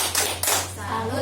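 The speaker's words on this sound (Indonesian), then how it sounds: "Mari kita tepuk salut untuk diri kita sendiri." A group gives a short rhythmic salute clap at a community health and nutrition session: two quick bursts of hands clapping together, then a pause. Voices follow afterward, with a low steady hum underneath.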